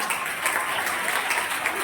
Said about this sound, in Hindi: भाई के लिए बहुत जोरदार तालियां बजाएं